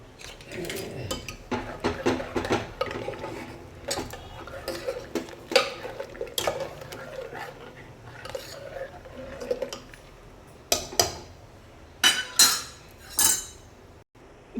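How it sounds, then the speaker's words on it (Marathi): A pressure cooker lid goes on while dal for Maharashtrian bajra dal bati cooks, with close metallic clinks, scrapes and clatters of utensils in an irregular rhythm, and a few sharper knocks near the end. "इथे झाकण लावून घेत आहे कुकरचं."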